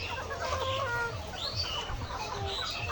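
Layer hens at roughly 78 days old cluck and chirp continuously on a poultry farm, many birds overlapping in a dense, steady flock chorus with no talking.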